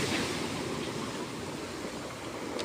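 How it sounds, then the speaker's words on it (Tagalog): Steady broadband rush of large surf rolling in at Dipaculao, Aurora, continuous and fairly loud, with no voices over it. "Lalaki po ng alon dito."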